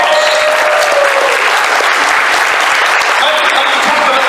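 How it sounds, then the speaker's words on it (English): Convention crowd at a Transformers fan event's opening ceremony applauding, a loud, dense, continuous roar of clapping with faint cheering, close and steady throughout. "Give Hero a round of applause"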